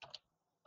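Brief keystrokes on a computer keyboard while sending a chat message, a short cluster of soft clicks followed by quiet and another tap, close and faint.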